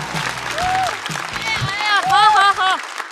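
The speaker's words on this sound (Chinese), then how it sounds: "让我们掌声欢迎步惊云" Studio audience applauding and cheering as a stand-up comedian is welcomed onstage at a Chinese comedy show, a moderate crowd wash with a voice and bright musical tones rising over it toward the end.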